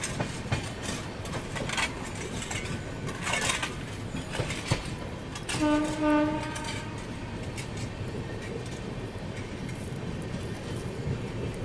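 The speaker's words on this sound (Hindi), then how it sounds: "फिलहाल अंडाल स्टेशन अपनी ट्रेन पहुंच चुकी है" A passenger train running near Andul station, with a steady rolling rumble and rattle of the carriages and a short horn blast partway through, heard from on board with no talking.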